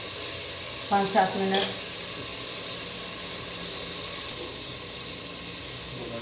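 Aloo gosht, meat and potatoes, sizzles steadily in a pan with a constant bright hiss, briefly broken early on by a few clinks of a utensil and a short spoken phrase.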